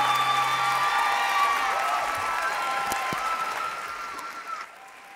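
Applause and cheering from an audience at a live music showcase right after a song ends, broad clapping with scattered whoops and sustained tones that fade toward the end.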